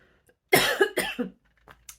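A person coughs several times in a quick, harsh cluster close up, followed by a couple of smaller coughs trailing off.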